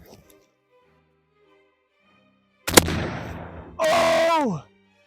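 A single loud Mosin Nagant rifle shot with a rolling outdoor echo, followed by a loud, short whooshing and whining burst.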